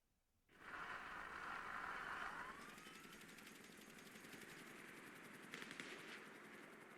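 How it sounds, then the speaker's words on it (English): A sudden burst of rapid automatic gunfire in the video game GTA V Online starts and rattles on continuously, a dense buzzing stream of shots with a mechanical drone underneath. "Hear the gunshots."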